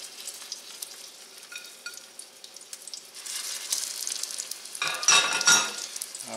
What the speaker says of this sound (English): And in they go into the hot coconut oil.